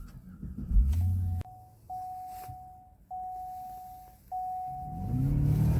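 A supercharged 6.2-litre V8 Cadillac CTS-V Coupe accelerates hard, its engine note climbing in several steady pulls broken by quick gear changes, loud and close with no talking.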